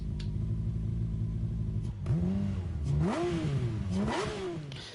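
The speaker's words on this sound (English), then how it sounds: "wait for the engine revs in 3, 2, 1" A car engine in Gran Turismo 7 revs up and down in a few rising, wavering surges over a steady engine drone, loud and close, with no talking.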